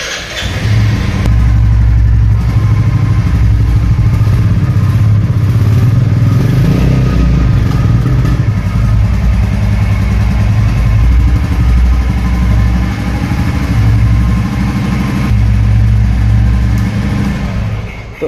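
A 2023 Royal Enfield Classic 350 with its J-series engine and company-fitted silencer idles close by, a loud, steady exhaust thump that rises briefly in the middle and runs without pause and without speech.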